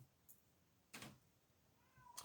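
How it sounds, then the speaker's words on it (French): A cat outside a door meowing to be let in, one clear drawn-out meow near the end after a couple of brief knocks or bumps against a quiet, near-silent room. "Ah, elle miaule, elle miaule."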